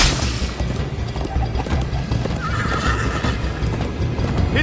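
Rapid hoofbeats of a galloping horse in Minecraft: Story Mode thunder steadily with a whinny breaking through midway, loud and busy like a game soundtrack.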